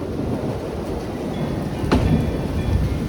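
Thunderstorm with hail, steady pelting of rain and ice on surfaces, then a sharp crack and rumble of thunder about two seconds in, loud and near.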